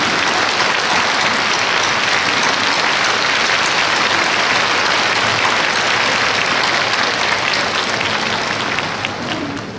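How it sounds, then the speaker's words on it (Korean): A church congregation gives loud, sustained applause to welcome a guest at a Honam regional Family Federation worship service, a dense, continuous roar of many hands from the crowd that fades slightly at the end. "여러분 힘찬 박수로 환영을 해주시면 고맙겠습니다"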